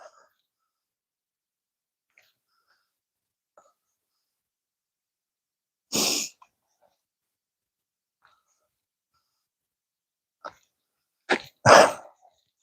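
A dog plays on a morning trail walk and gives a single short bark. After a long pause it lets out a quick pair of louder, close barks, with faint distant sounds in between.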